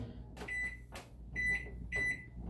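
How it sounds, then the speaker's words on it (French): A microwave oven hums steadily as it bakes a cake batter, a constant low drone with a few soft clicks or clunks and faint tonal whines over it, close and moderate in level. "Et je l'envoie 8 minutes au micro-ondes."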